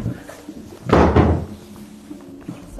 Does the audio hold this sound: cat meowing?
no